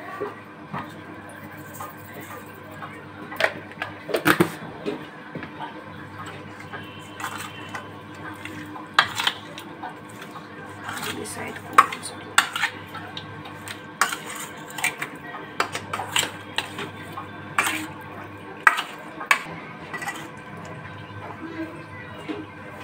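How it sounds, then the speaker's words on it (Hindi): A spoon stirs raw washed fish with turmeric powder and salt in a bowl, producing intermittent scraping clinks and clattering taps at an uneven rhythm, close by and fairly loud. "मैंने इसको चम्मच के हेल्प से इसको मैंने अच्छे से मिक्स कर लिया है"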